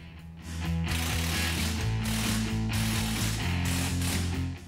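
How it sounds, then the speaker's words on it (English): A ratchet tightens the factory retaining nuts on a strut in a 2005-2010 Mustang during a Pedders strut and shock kit install, giving fast, loud, continuous clicking up close with a short pause partway through. "Reinstall the factory retaining nuts and tighten them down."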